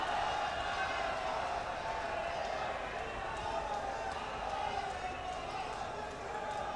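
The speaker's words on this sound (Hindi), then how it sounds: "जोरदार तालियां।" Loud, sustained applause from a large audience at a foundation-stone and inauguration ceremony, a dense, steady roar of clapping and crowd noise that fills the whole stretch without a break.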